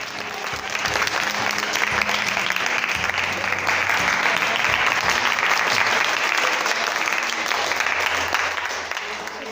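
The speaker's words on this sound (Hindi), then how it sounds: "ये जोरदार ताली के लिए बजाइए।" Loud, dense clapping from a crowd at a children's science fair in a gurukul school, sustained evenly for several seconds before easing slightly at the end.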